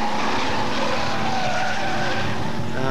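A Hotstox stock race car skids and smokes its wheels at Birmingham, a loud, continuous tyre squeal over roaring engines that holds steady throughout.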